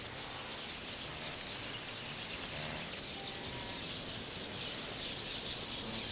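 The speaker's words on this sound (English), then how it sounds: "A deluge of birds now descends on the ripe grass seeds." A huge flock of birds swarms down onto ripe grass seeds, making a dense, steady hiss of wings and a mass of faint chirps that fill the air from a distance.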